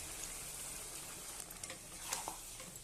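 Mutton curry sizzles and fries in a pan as it is stirred, a soft, steady crackle with faint scraping strokes near the end, quiet and without voices.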